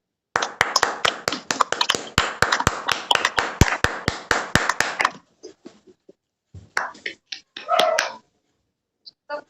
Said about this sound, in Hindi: उनका तालियों से स्वागत किया जाए